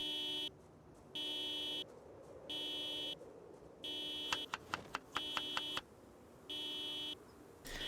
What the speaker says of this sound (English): I am really surprised it's the first alarm we've had.